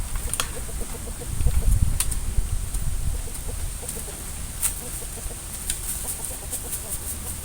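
Chickens cluck steadily on a rural farm while someone works the soil, with soft repeated clucks and short calls over constant insect buzz and outdoor noise.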